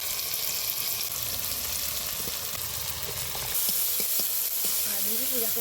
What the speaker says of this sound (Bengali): ভালো করে নাড়িয়ে নিব পেঁয়াজটা।